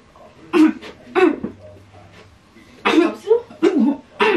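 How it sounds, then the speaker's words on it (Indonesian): A person coughing indoors, heard close and fairly quiet as several short, harsh bursts separated by brief pauses, with a faint low hum between them. "Lu pagi lagi batuk mulu tau gak sih?"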